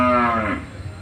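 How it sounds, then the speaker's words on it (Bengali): A single cow moos loudly and close at a rural cattle market in Betka, Tongibari, Munshiganj; the low call holds for about half a second, then trails off into the crowd's murmur. "হ্যাঁ এই গরুগুলি 2 বছর পালছি।"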